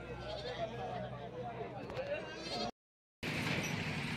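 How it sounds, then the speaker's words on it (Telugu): Sheep bleat from several directions amid a busy outdoor crowd murmur at a sheep and goat market in Pedda Tadepalligudem, with a short silent gap partway through. "వెనకాలన్నీ మనకి గొర్రెలు ఇవన్నీ"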